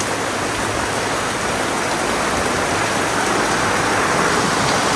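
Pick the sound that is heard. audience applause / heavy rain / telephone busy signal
heavy rain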